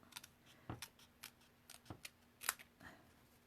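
Scissors snipping through a card panel in a few separate, sharp cuts, quiet and close, with short pauses between snips.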